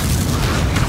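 A fiery Confringo spell explosion from the Hogwarts Legacy game, one brief dense booming blast that is loud and close with no voices over it.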